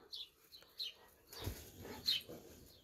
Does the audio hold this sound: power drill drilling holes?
no